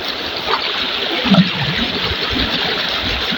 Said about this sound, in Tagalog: Ah, dito pala nanggagaling yung tubig ng mag-asawa